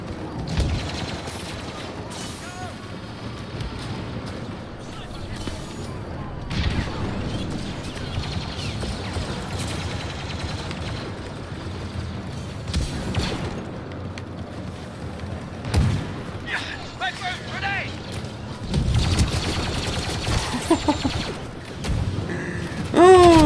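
Heavy weapon fire from a Battlefront II battle sounds in repeated blasts and rattling bursts amid mechanical clatter, growing denser and louder toward the end of a busy, close-range fight.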